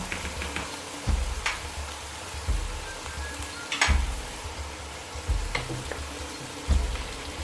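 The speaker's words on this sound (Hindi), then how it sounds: "दही डाल के अब मैं इसे कर रही हूँ मिक्स।" Chicken karahi sizzling in a pan as yogurt is stirred in: a continuous crackling fry with repeated scraping spoon strokes and clinks about once a second, nearby, with no voice.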